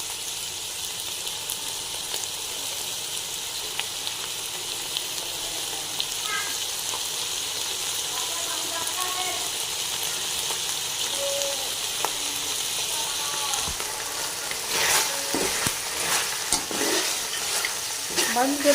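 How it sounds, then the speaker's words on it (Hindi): Shredded cabbage fries in a pan with peas, a loud continuous sizzle heard close up. A spoon scrapes and stirs in bursts toward the end, and no one speaks. "बंद गोभी डालने के बाद हम 2 मिनट तक इसे पकाएंगे अच्छे से।"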